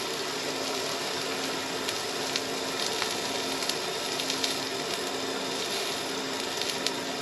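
Onions, carrots and cabbage sizzle steadily in a hot skillet in a hiker trailer kitchen, a constant close crackling hiss with a faint underlying hum.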